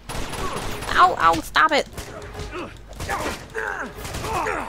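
Bursts of gunfire in Uncharted 2: Among Thieves, short sharp volleys and mechanical clatter at moderate loudness, heard between and under a player's pained exclamations and chatter.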